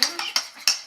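A spoon stirs instant coffee dissolved in water for a coffee cake batter, clinking sharply against a bowl three or four times in a quick, close rhythm.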